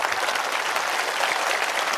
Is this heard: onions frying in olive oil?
no